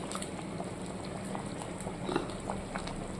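Prawn curry gravy (golda chingri malaikari) bubbling steadily in a pan, a dense, continuous simmering hiss with scattered pops, close and fairly loud, no voices.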